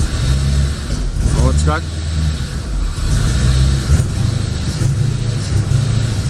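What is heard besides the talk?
abandoned 1985 Corvette engine revving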